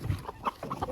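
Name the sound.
chickens clucking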